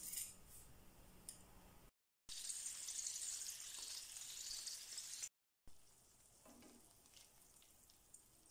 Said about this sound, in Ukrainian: І жаримо таким же методом наступні крила.